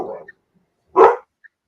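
A single short dog bark sounds indoors, preceded by a brief faint noise, with quiet in between.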